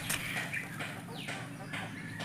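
Backyard flock of Light Brown layer hens kept in Kedah, Malaysia, clucking softly and continuously at close range, with one rooster in the group and a person's voice talking over the birds.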